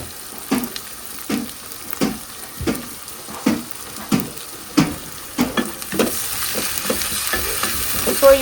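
Onion, curry leaves and ginger garlic paste frying in a pan, with a steady sizzle and a regular series of sharp spoon scrapes and knocks, about one each second, close and clear.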